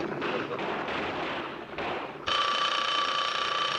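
A telephone in an office rings loudly and continuously after a few muffled thumps and some talking.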